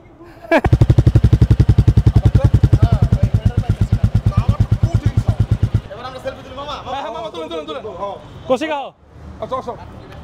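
A Royal Enfield Bullet 350 motorcycle rides on a road in Bangladesh. Its engine gives a loud, close, rapid and evenly spaced thumping that runs for about five seconds and then stops, followed by a person talking.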